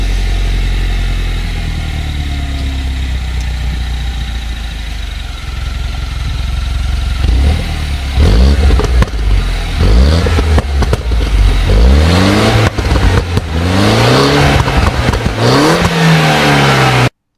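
An old car engine cranks and catches, idles roughly, then revs repeatedly through a gravelly exhaust. The loud, close bursts rise and fall in pitch.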